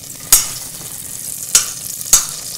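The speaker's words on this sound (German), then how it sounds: "Also Butter, Knoblauch leicht anlaufen lassen" Butter and garlic gently sautéing in a pan, a soft continuous sizzle broken by three sharp metallic clinks of a utensil against the pan, close up with no talking.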